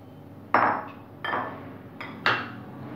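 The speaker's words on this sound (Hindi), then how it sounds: "बड़ा बाउल ले लेते हैं। इसमें सबसे पहले हम चने डालेंगे।" Dried chickpeas dropped into a large bowl while making aloo chana chaat, giving four separate clattering, clinking impacts that each ring briefly and fade, spaced under a second apart, with no talk.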